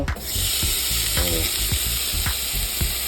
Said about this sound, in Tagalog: Ngayon, sasalang natin to. Ito yung burger patty.